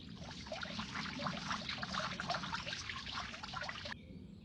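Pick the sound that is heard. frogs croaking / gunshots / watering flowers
watering flowers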